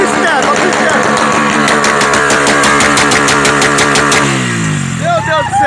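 A loud motorcycle engine revving hard with rapid crackling pops from the exhaust, then dropping toward idle, with voices talking over it.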